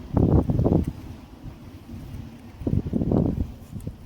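Wind gusts outdoors buffet the microphone in two heavy, low rumbling bursts separated by a quieter lull, close and fairly loud with no talking.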